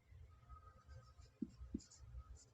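Chalk or marker writing on a board in a chemistry lesson: faint, short scratchy strokes, two sharper taps near the middle, in a quiet room with no talk.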